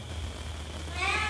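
A cat meows once, a short clear call rising near the end over a low steady background hum, with no talk.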